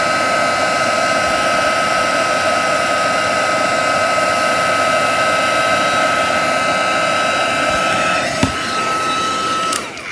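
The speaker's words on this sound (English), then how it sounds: "A heat tool is really, really hot. It's not like a hairdryer, it is really hot." A very hot heat tool blows air continuously at close range during a craft session with cracker and treat dies, a steady loud whoosh with a faint click near the end.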